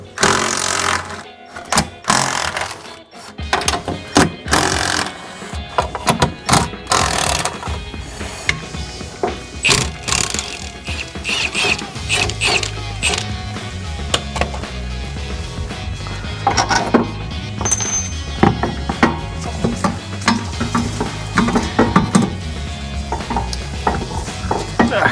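Clattering, clanking metal work on a Nissan 300ZX, with bursts of tool noise and ratcheting as the rear coilover bolts are removed. The clip is loud, close and busy, with no talk over it.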